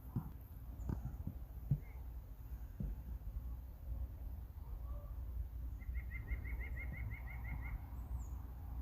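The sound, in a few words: white-breasted nuthatch calling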